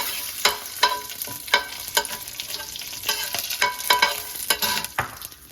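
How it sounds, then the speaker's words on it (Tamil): Curry leaves fry in hot oil in a pan during South Indian kozhukattai preparation, giving a close, steady sizzle with repeated scraping and clinking stirring strokes throughout. "இப்போ கருவேப்பிலை போட்டுக்கிறோம்."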